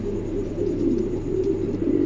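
A silver pigeon coos in a soft, continuous low murmur, close and steady, with faint background noise and no talking.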